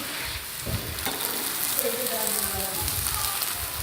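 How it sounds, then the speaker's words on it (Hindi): A gobi paratha cooks in ghee on a hot griddle, giving a loud, continuous crackling sizzle close by, with a voice faintly present underneath. "रोटी को अच्छी तरह से पकाना है और इसके ऊपर घी लगा दें।"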